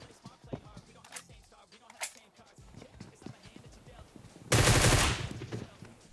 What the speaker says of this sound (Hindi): मैं हर बार कवर से बाहर जा रहा हूँ, थोड़ी गोली चला रहा हूँ और वापस आ जा रहा हूँ